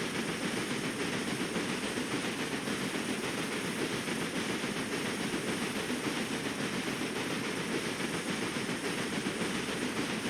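Train rumbling steadily along the track in the railway management game Railway Empire, a continuous dense mechanical roll with faint clickety-clack, loud and unbroken with no talking.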